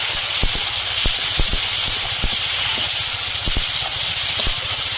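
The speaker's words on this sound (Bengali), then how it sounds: "এবার লঙ্কা বাটা দিয়ে দেবো। মশলাটা কষিয়ে নেব।" Spice paste with chili paste sizzles while frying in a pan, a constant loud hiss broken by repeated sharp spatters and clinks from stirring.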